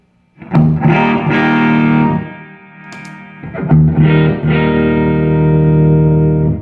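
Distorted electric guitar chords ring out through a Fender Hot Rod DeVille tube amp, two strummed phrases with sustained, buzzing tone and a short gap between them.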